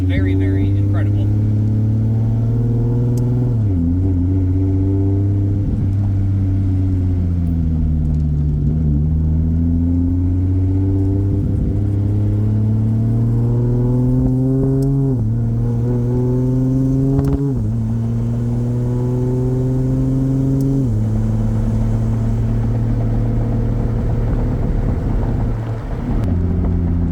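A 2JZ-powered Nissan S14 with an 8HP70 automatic gearbox pulls away and accelerates, its engine note rising steadily then dropping at each quick upshift, loud and close with wind noise throughout.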